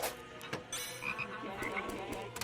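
A frog croaks in a short run of rough, rattling calls, close and moderately loud, with scattered clicks and faint background noise and no speech.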